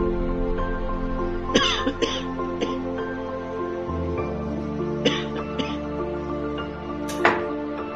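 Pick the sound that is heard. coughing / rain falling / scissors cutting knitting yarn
coughing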